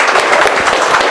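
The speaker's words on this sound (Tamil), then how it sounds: "அனைவரும் கரகோஷம் எழுப்பி அன்புடன் வளர்க்கிறோம்" Audience at a Kammavar Naidu association souvenir release event in Tiruchi breaks into loud, close applause, a dense, even clatter of many hands filling the whole moment.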